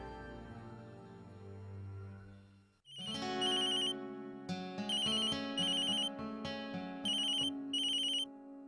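A telephone ringtone plays loudly, a bright repeating electronic melody in bursts, following a brief lower musical tone.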